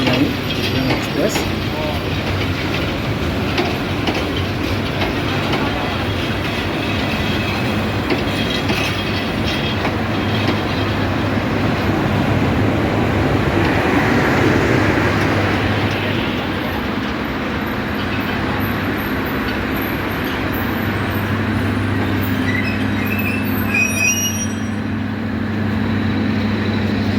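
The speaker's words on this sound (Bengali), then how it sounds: "5:20 কুড়িগ্রাম এক্সপ্রেস সান্তাহার রেলওয়ে জংশনের 2 নম্বর প্ল্যাটফর্মে প্রবেশ করছে।" Kurigram Express, hauled by a 3013-series locomotive, rolls into platform 2 at Santahar Junction, a continuous loud rumble of wheels with rhythmic clatter over rail joints and a steady low engine drone throughout.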